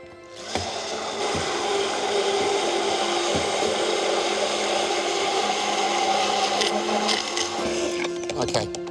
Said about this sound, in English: basket of the stick blender over the yolk